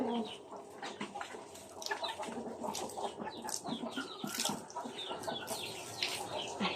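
Bantam chickens clucking and chirping near at hand in a small yard. Busy overlapping clucks and peeps come from several birds, with chicks among them, and carry on continuously.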